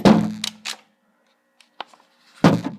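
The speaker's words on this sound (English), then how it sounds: "so I can pull the pump back halfway" A Mossberg 500 shotgun has its pump slide pulled back halfway. A single short mechanical click stands out in a quiet gap, with brief voice fragments before and after it.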